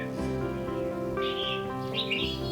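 A red-whiskered bulbul, a popular caged songbird, calls in clear, bright chirping phrases, several short whistled notes in quick succession, close and prominent above a steady background of other sound.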